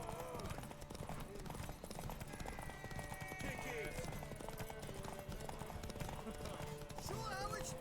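Hooves clip-clop steadily from a horse in The Witcher 3, running beneath dense game music and effects, with talk over the scene.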